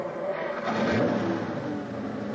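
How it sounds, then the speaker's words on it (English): A 12-cylinder, 300-horsepower Ferrari engine revs up steadily, swelling to a peak near the middle and then holding at a continuous roar, with no talking over it. "To understand a Ferrari, you must listen. The engine speaks."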